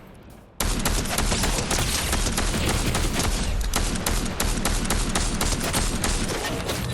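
Sustained, loud video game gunfire played with a custom PS5 controller: dense rapid bursts and overlapping shots pour in abruptly after a brief quiet start and keep up for several seconds.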